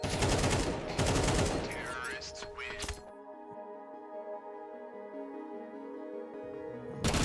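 Gunfire in a Counter-Strike match: dense, loud rapid shots for about three seconds, then a quieter stretch of tonal game and arena sound with sparse distant pops.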